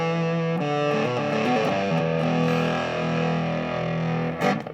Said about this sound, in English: not that crazy, but a fuzz sound